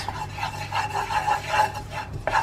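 Garlic being stirred in a pan, a close, rhythmic scraping and rasping of a utensil across the pan's surface in several quick strokes, with a light sizzle underneath.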